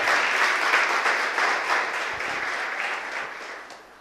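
A church congregation applauds during a sermon, a full, continuous wash of clapping hands that starts strong and gradually fades toward the end.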